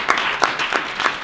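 Several people in a room at a smart cities expert panel clap a short round of applause, individual claps distinct and spaced, brief and close with no speech.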